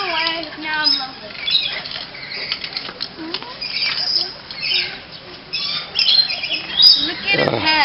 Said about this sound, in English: Please don't fly away. Beautiful bird, you're very cute.